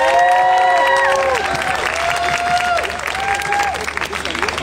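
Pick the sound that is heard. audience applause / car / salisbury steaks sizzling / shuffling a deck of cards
audience applause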